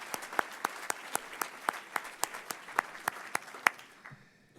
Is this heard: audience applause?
yes